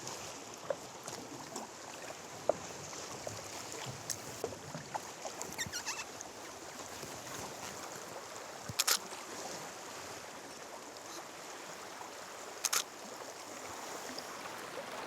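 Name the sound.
paddling a boat on Golden Bay, New Zealand, at dawn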